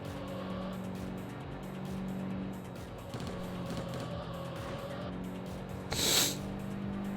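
A car engine drones steadily while driving in the racing video game Import Tuner Challenge, with a brief tire squeal or burst near the end, all without speech.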